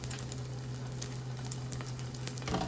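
Sole fillets sizzle and crackle steadily in a hot frying pan, a close, continuous hiss with small pops.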